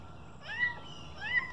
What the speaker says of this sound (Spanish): Este gatito quiere comer